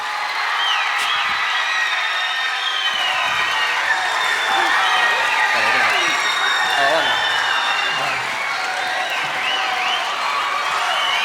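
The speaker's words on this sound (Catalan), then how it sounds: "Fort aplaudiment!" A crowd at an event on the Catalan language and social networks gives loud, sustained applause as guests come on. Thick clapping runs without a break, with a few cheers and whoops on top.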